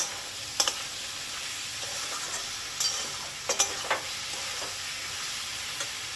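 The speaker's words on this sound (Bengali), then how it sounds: "এই মশলাটা যতক্ষণ না তেল ছাড়ছে এবং আদা রসুনের কাঁচা গন্ধটা ছাড়ছে ততক্ষণ কিন্তু খুব ভালো করে কষিয়ে যেতে হবে" Spices with ginger and garlic paste frying in oil for a prawn, potato and snake gourd curry, a steady soft sizzle broken by a few sharp scrapes and taps of stirring, close and alone with no talk.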